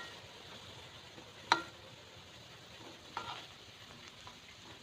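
Shrimp balls fry in a pan of oil, turned until golden brown, giving a steady soft sizzle throughout with a couple of sharper pops or clicks, close and alone with no voices.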